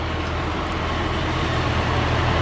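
Vehicle traffic at a busy truck stop on a rainy night: a continuous dense roar of engines and tires on wet pavement, steady and fairly loud with no gaps.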